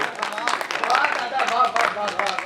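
Audience applause at a Hindi comic poetry recital, a dense, steady patter of many hands clapping close and fairly loud, swelling and dipping slightly without pause, with no voices heard over it.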